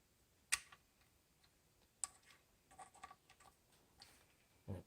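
A torque wrench clicks as it tightens the rear main seal bolts on a 2003 Cummins engine rebuild. A few sharp, quiet clicks come at uneven intervals over a low background hiss.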